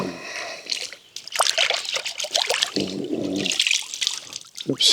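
Liquid is poured over the action of a Leitner-Wise MARKFIVE ELEVENFIVE rifle that won't go into battery, giving an irregular close trickling and splashing with bursts of spray, running continuously for several seconds with no talk.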